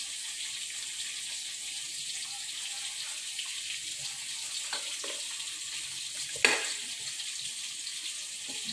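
Large pieces of pork frying in a pan for a beef-and-pork-leg dish with chorizo de Bilbao, a faint, steady sizzle with a few soft clinks and one sharp knock near the end.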